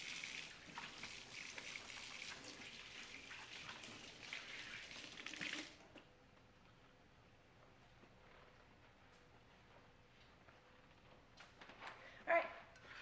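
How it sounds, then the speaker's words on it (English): Tap water runs steadily for hand washing in a home kitchen, a close hiss that stops abruptly midway, leaving quiet room tone and one brief knock near the end. "And hand washing."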